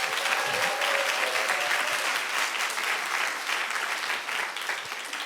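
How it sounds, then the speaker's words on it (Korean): A church congregation claps in blessing for young couples and their children during a Passover special dawn prayer service, with dense, sustained applause that stays loud throughout with no talking over it. "애기들까지 축복의 박수."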